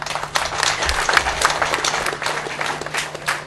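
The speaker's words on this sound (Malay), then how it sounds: "satu tepuk tangan untuk press" A short burst of crowd applause, many hands clapping at moderate loudness with a low steady hum underneath.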